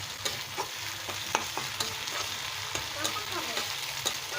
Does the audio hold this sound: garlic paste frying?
yes